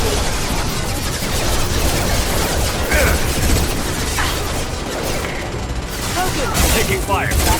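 Gunfire in a Mass Effect 2 firefight: dense, continuous volleys of shots and mechanical weapon clatter fill the whole stretch, loud and busy, with occasional voices mixed in.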